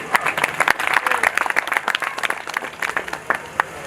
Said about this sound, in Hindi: एक बार अपने लिए भी तालियां